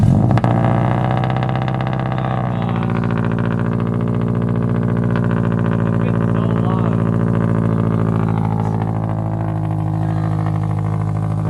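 A Subaru WRX/STI engine cranks and catches in the opening seconds, then settles into a loud, steady idle with a strong low rumble that holds through the rest of the clip, with no voices.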